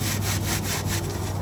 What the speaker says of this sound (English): you need to really aggressively rub them on a screen